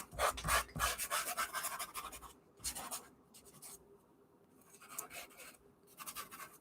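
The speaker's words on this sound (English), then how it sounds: "I might take my finger and start kind of like smoothing some of that out" A fingertip rubs over pencil shading on paper in soft, close bursts of dry scratchy friction, separated by short quiet pauses.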